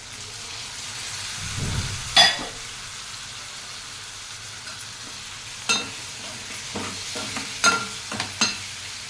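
Tomatoes and curry leaves frying in a pan give a faint, steady sizzle, broken by several sharp scraping and stirring clatters of a utensil.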